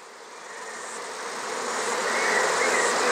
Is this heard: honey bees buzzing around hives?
yes